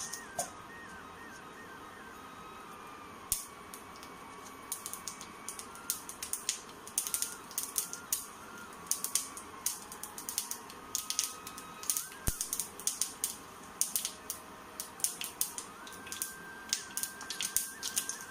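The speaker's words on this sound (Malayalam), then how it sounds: "വെളിച്ചെണ്ണ നന്നായി ചൂടായി കഴിയുമ്പോൾ അതിലേക്ക് നമുക്ക് കുറച്ച് കടുക്" Mustard seeds crackling in hot coconut oil, a dense run of sharp popping clicks that grows busier over time, with a faint steady background tone and no voices.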